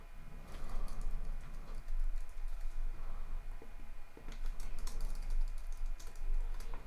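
Rapid bursts of typing on a computer keyboard while entering account details, the clicks pattering in uneven runs with short pauses between them, close and moderately quiet.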